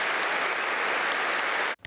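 Applause fills a packed cathedral at a funeral, a dense steady roar of many hands clapping throughout before cutting off abruptly near the end.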